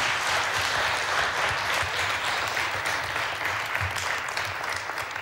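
An audience claps steadily for guests at a children's event, a dense wash of applause throughout with no voices on top.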